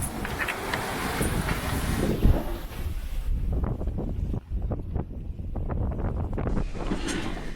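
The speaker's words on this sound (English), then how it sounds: "the wind started to pick up until it was blowing in the mid to high 30s" Strong wind, blowing in the mid to high 30s, buffets a sailboat at sea on the way from the Solomons to Australia, a steady roar and rumble of gusts across the microphone, loud and continuous with no voices.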